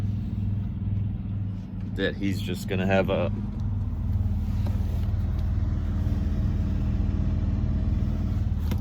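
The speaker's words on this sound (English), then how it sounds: "his truck running or something all night long" A neighbor's truck engine idling close by, a steady low throbbing hum running throughout, with someone speaking briefly over it early on.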